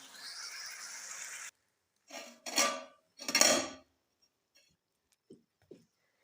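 Grated carrots for Kabuli beef pulao being spooned onto rice: a steady hiss cuts out, followed by a few short scraping, clattering bursts of a utensil against a pot and two faint clicks.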